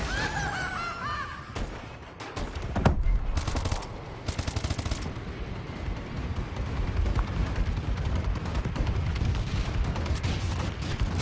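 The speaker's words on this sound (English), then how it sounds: "friendly bombing run incoming." A bombing run airstrike in a first-person shooter video game brings rapid bursts of explosions and gunfire, loud sharp impacts clustered early, then a rumbling stream of blasts and shots.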